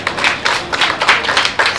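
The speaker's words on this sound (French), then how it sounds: "Vous pouvez applaudir pour vous-même." Women at an International Women's Day event clapping for themselves, loud close rhythmic claps in quick repeated bursts, no talk over them.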